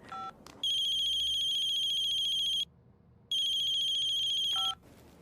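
Telephone ringing after a call is dialed, two long electronic ring bursts separated by a short silence, clear and close, with short beeps at the start and end.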